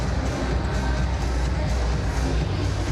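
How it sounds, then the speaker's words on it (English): Arena crowd before tip-off at a CEBL basketball game at the Edmonton EXPO Centre, a steady dense murmur of many voices filling the hall at moderate level, constant throughout with no distinct cheers. "Nice crowd filling in here at the Edmonton EXPO Centre"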